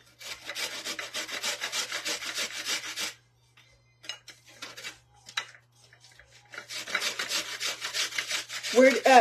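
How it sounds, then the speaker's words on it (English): Frozen onion being grated by hand at home while making dinner: two long bursts of steady, rhythmic rasping strokes, close and fairly loud, separated by a quieter stretch of scattered handling knocks, with no talking. "It's easier to grate onion if it's frozen, because when it's not, it just falls apart."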